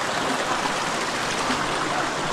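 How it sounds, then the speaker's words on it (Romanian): A stream of water runs beneath a mountain inside a cave, giving a dense, steady rushing flow at constant loudness with no voices. "Ia uite de unde vine apa, pe sub munte."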